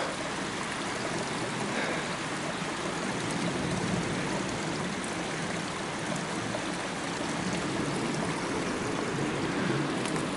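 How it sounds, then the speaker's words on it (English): Water of a mountain stream rushing along an old logging road, a steady broadband hiss and gurgle that holds evenly for the whole stretch at a soft, moderate distance, with no voices. "it's nice with having access in these mountains to stream water like that"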